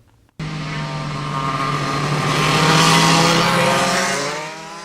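A Briggs-engined racing kart at Whiteland Raceway roars past close by, its engine note rising and swelling in pitch and loudness, then fading slightly as it moves away.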